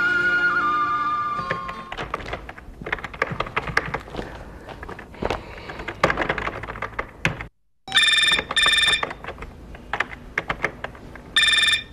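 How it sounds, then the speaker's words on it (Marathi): A telephone rings indoors in a Marathi TV serial scene, its electronic ring coming in loud repeated bursts over the last few seconds after a stretch of soft thumps, taps and rustling. "अनु फोन घे."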